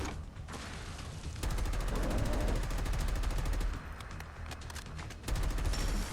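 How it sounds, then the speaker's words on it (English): A modded Colt 723 rifle fires grenades in Fallout 4, producing rapid mechanical clatter and bursts of shots in two loud stretches separated by a quieter pause, with metallic clicks between them. "I'm kind of underwhelmed by what these grenades are giving me"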